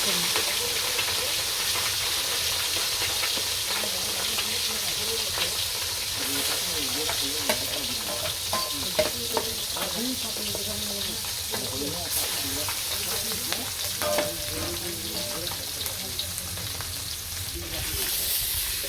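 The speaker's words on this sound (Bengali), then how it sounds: "চরচরি মাছ ভাজি করবো ছোটো মাছ দিয়ে" Small fish sizzling in a pan during village cooking, a loud continuous crackling fry with occasional stirring scrapes throughout.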